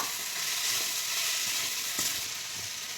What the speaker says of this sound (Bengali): এবার দিয়ে দেবো এই যে সেই গ্রেট করে রাখা আলু, একটু মিশিয়ে নেব